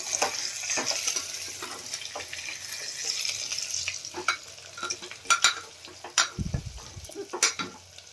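Stuffed eggplant and potato curry being stirred in a pan: soft scraping and clinking stirs under a light oily sizzle, with a few sharper knocks of the spoon near the end.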